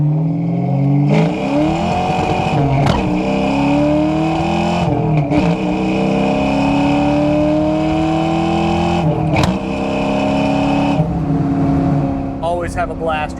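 A 1994 Ford Cobra 5.0 with a 5-speed manual revs hard through the gears, each climbing engine pull cut by a brief dip at the shift, loud and close from inside the car, with a voice briefly heard near the end.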